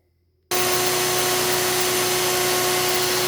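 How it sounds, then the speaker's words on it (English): A generator running outdoors to power a router on spalted hard maple starts abruptly after silence, then holds a loud, steady hum with a constant tone. "I also have the generator running out here that you can hear to run the router"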